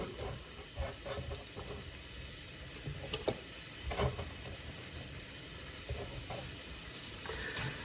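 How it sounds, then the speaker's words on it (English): Shallots sizzle in olive oil in a pan over a gas flame for a chicken hearts recipe, a continuous close hiss with a few soft stirring knocks. "A little bit of olive oil. And let's throw those shallots in the pan."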